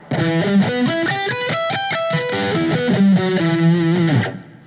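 A heavily distorted electric guitar sweep-picks a fast, rising and falling arpeggio, each note ringing out distinctly in a steady, loud run.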